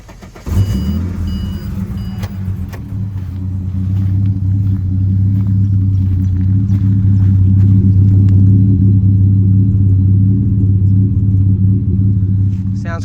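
A Ford XR6 Turbo with a custom exhaust cranks and catches, then settles into a loud, deep, steady idle rumble that swells slightly and holds close to the microphone.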